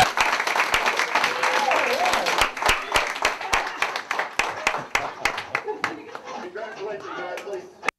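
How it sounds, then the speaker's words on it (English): Wedding guests break into loud applause and cheering right after the couple is pronounced husband and wife, sharp individual claps standing out over the crowd noise and voices for the whole stretch, thinning slightly toward the end. "everybody can cheer"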